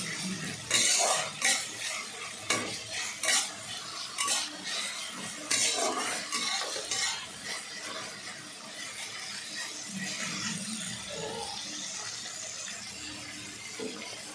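Sour okra (tok bhendi) petals fry in a pan for a sweet-and-sour chutney, with a steady soft sizzle under repeated scraping and stirring clatter of a utensil against the pan, close and moderately loud throughout.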